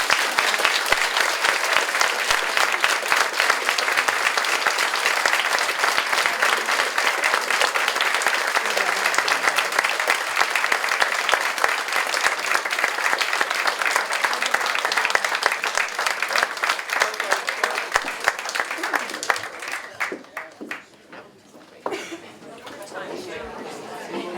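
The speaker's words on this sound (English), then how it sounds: "a round of applause please for my wonderful" Long round of applause from the audience at a Brexit panel event, dense rapid clapping from many people that holds strong for most of the stretch, then thins and fades out near the end as talking resumes.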